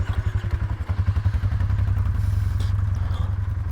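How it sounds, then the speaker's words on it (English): A motorcycle engine roars close by at a campsite with a rapid, throbbing rumble that stays loud and steady as it passes. "Motorcycle just rode by."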